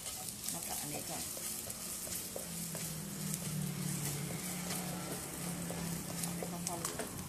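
Rinsed, squeezed-dry canned champignon mushrooms fry in a pan, giving a close, steady sizzle broken by irregular clicks and scrapes of stirring throughout.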